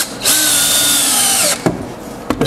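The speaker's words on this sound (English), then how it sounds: "I got these giant deck screws." Power drill driving large deck screws into lumber for a shop chair build, one loud sustained whine of about a second and a half that winds down, followed by a few short bursts.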